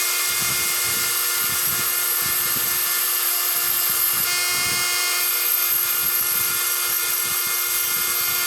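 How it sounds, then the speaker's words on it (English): Dremel rotary tool grinding the edge of a piece of knapped glass, a loud, high, steady whine with rough, stuttering grinding bursts underneath as the bit bites the edge. "I'm going to turn my edge a little bit with my dremel"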